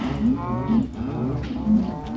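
Video game cows mooing close by in a co-op survival game, several drawn-out low moos overlapping in a loose rhythm, loud and clear with no talk over them.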